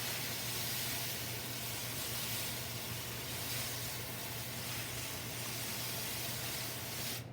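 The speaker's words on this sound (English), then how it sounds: "Make sure that you use the overhead sprayer, not the power washer." An overhead sprayer rinses emulsion off with water, a steady, even hiss of spray running continuously and fairly close throughout.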